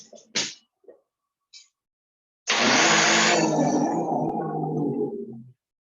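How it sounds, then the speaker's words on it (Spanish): Blender blending a cooked pumpkin mixture for kiveve: a few short clicks and knocks, then about three seconds of loud, steady whirring and churning that stops abruptly. "Yo voy a licuar ahora un ratito."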